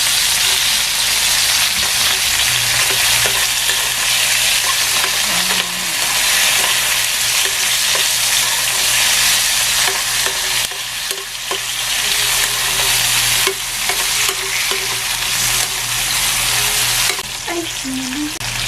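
Garlic and onion sizzle and fry steadily in hot oil for adobong kangkong, loud and close, with occasional stirring scrapes and no talking.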